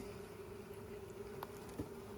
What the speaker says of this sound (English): So that's a pretty good bunch of bees.